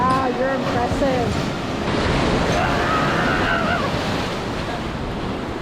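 Lake waves in Traverse City surge and wash in a steady, loud roar, with gusty wind buffeting the microphone throughout.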